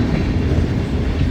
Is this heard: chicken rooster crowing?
no